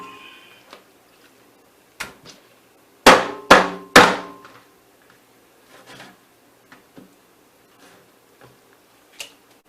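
A whole chicken is chopped into pieces with a heavy knife or cleaver, giving three loud, close, sharp blows in quick succession, then scattered fainter knocks and taps on the board. No one speaks.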